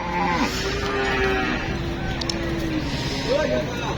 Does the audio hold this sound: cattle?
yes